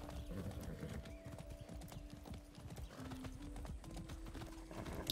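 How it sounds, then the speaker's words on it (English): Horse hoofbeats clip-clop at an even trotting rhythm in Far Cry 6, close and continuous, with a low droning background underneath and no voices. "Faire le chemin à cheval, c'est top, ça."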